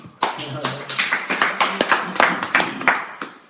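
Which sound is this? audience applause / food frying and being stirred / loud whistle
audience applause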